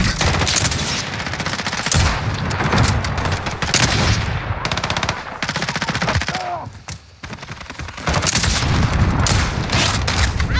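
Dense bursts of automatic gunfire and rapid shots fill a Call of Duty Modern Warfare PC firefight, loud and near, with a brief lull before the shooting resumes.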